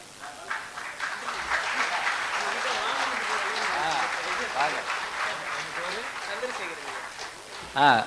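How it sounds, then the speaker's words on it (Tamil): An audience at a Tamil comedy debate event claps in a steady, sustained wave of applause, with a voice speaking over it throughout. "சந்திரசேகர், நல்லா கைதட்டுங்க."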